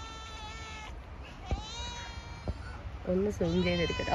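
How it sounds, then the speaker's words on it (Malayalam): A cat meows several times, loud and near, after a stretch of quieter background with a couple of soft knocks, while a person speaks over it. "അവിടെ നിന്നൊരു പൂച്ച കരയുന്നുണ്ട്"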